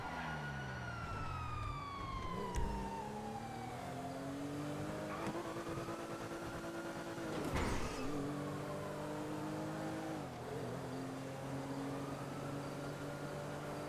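Police car siren in the video game GTA V wails in sweeping rising and falling tones over a steady engine roar and revving, continuous throughout with a couple of brief bumps, no talking.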